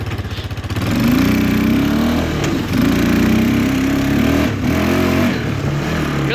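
A Kawasaki Bayou 220 2x4 four-wheeler's small engine runs close by, loud and steady, with a throaty putter that rises slightly after the first second, then keeps up a snappy, uneven throb throughout.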